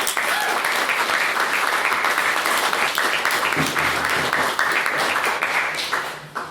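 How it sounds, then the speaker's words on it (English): Sustained, loud applause from a debate audience after a speech, many people clapping steadily throughout before it begins to thin out and fade at the end. "Please, another round of applause for maiden speech."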